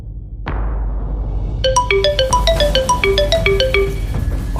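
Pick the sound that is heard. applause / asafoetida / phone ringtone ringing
phone ringtone ringing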